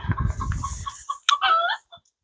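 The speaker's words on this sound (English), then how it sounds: "we have a rooster commentator here" A free-range rooster in a garden gives a short, brief call close by, following some rustling and clucking, then cuts off into silence.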